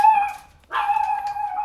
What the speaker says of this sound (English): That's one of my dogs outside barking.